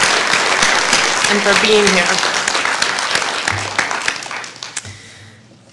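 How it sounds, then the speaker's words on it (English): A conference audience breaks into sustained, loud applause that dissolves into scattered claps and fades out, with a voice speaking briefly over it. "can we give one more round of applause to Governor Blanco"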